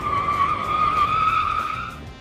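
A car speeds off with tires skidding in a long, loud, sustained squeal, with engine noise underneath and no voices.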